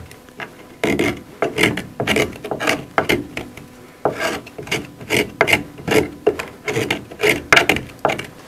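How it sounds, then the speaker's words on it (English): Scraping softened old material off a boat's port toerail, a series of rhythmic rasping strokes, close and fairly loud, repeating steadily with short pauses between them. "I'm hoping will be able to soften up some of this material enough to make it easier to scrape off and to get it out"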